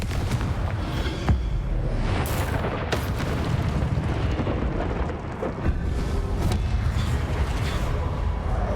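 Explosive Confringo spell blasts in the video game Hogwarts Legacy, with repeated booming impacts and crackling debris over a dense, loud battle soundscape with continuous rumble and sharp bursts throughout.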